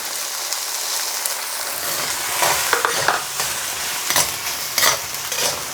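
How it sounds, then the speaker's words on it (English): Beaten eggs fry in hot oil for vegetable fried rice, a steady loud sizzle with scraping stirring strokes building toward the end, close up with no talk. "this is where I'm going to add the egg"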